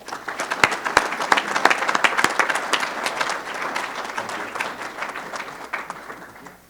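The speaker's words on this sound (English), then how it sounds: "let's give Dave a round of applause" Warm round of applause from the crowd at an awards luncheon, many hands clapping densely at close range and then slowly thinning out toward the end.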